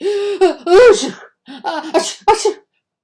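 A storyteller's voice imitates a wicked witch sneezing in a French children's tale, producing a quick series of three or four loud, breathy sneezes and gasps separated by short pauses.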